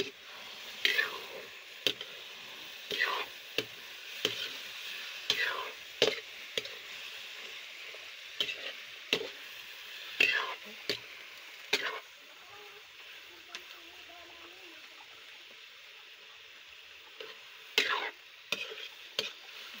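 Vegetables and cubes stirred in a frying pan: a utensil scrapes and clatters in irregular strokes over a soft, steady sizzle, close and fairly quiet, with no talking.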